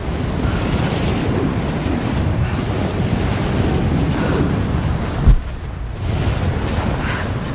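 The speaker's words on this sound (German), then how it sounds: "Ist auch noch scheiß windig." Wind and crashing surf in the video game Rise of the Tomb Raider: a loud, steady roar of waves and gusting wind, broken by one brief thump around the middle before the rush continues.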